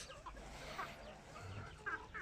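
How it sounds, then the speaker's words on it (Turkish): Hens clucking close by as they peck at melon, short soft clucks in scattered bursts with a quiet continuous background. "Şimdi kavun vereceğiz arkadaşlar tavuklarımıza."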